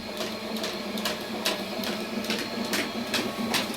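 A coaster printer (RapidColor Standard Pro) whirs and clicks in a steady mechanical rhythm, repeated short bursts over a constant hum, close by.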